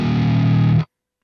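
A single distorted electric guitar open note, pitched down six semitones, rings loud and steady for under a second before cutting off abruptly into silence.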